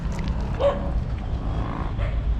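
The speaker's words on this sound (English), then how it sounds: "Got many dogs there." Dogs in a train yard near Makkasan, Bangkok, give a few short yips and barks at a moderate distance over a steady low rumble of outdoor background noise.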